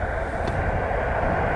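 An Aer Lingus airliner taking off from runway 28 right at Dublin Airport, a steady, heavy engine roar with deep rumble, unbroken throughout.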